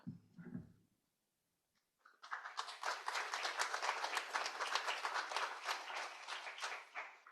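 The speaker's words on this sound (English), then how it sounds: "Thank you for applauding" A crowd bursts into sustained applause after a short spoken phrase and a pause, steady dense clapping continuing to the end.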